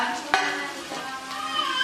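Palak vadi pieces tumble into a hot tomato masala and get stirred, giving a steady close sizzle of frying with a sharp clink of a utensil near the start and soft scraping throughout.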